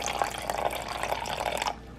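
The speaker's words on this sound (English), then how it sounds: "I wanna measure 4 ounces of the grape juice" Dark grape juice pours into a measuring cup, a steady close trickle and splash of liquid lasting under two seconds before stopping abruptly.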